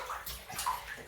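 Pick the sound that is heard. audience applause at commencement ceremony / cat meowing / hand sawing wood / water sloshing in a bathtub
water sloshing in a bathtub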